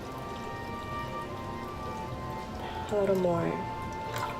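About two cups of water pour into a cooking pot for oatmeal in a home kitchen, making a steady splashing stream that swells briefly near the end while a person speaks.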